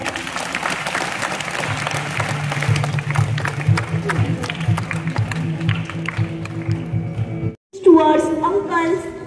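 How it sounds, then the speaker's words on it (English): An audience applauds at a thanksgiving event, with sustained, loud clapping and crowd noise and a voice speaking over it, followed by a short pause and then music. "Let us give all of them a huge round of applause."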